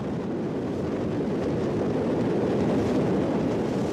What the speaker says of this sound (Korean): 너른 호수 위로 다시 바람이 불고